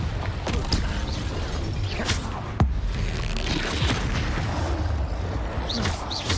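Fire-curse spells in the video game Hogwarts Legacy burst as repeated booming explosions, one sharp loud blast standing out among crackling, rumbling combat noise.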